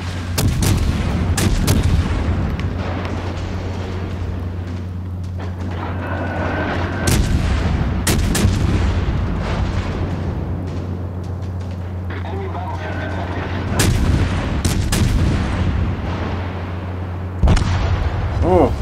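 Heavy naval cannon fire from warships in World of Warships Legends, repeated loud booming salvos at irregular intervals over a constant low engine rumble.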